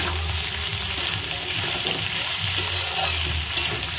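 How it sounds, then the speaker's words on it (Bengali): Carrots and green chillies frying in a pan for homemade chowmein give a loud, continuous hissing sizzle throughout, with no talking. "এবার ওর মধ্যে আমি গাজরগুলোকে দিয়ে দেব। আর কাঁচা লঙ্কাগুলো দিয়ে আমি কিছুক্ষণ ভাজতে থাকবো।"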